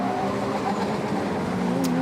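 A Radical SR1 race car sweeps past at Donington Park during a one-make cup race, its engine a loud, steady high-revving roar that holds for the whole stretch with a rising pitch near the end.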